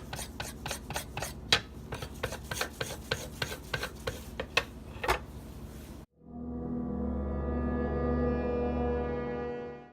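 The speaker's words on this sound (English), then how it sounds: "Follow with a few strokes on the leather strap" Kitchen knife stroked repeatedly along a leather strop, a quick series of rasping, scraping swipes in uneven rhythm, close and distinct, then abruptly cut off and followed by a loud, sustained low hum.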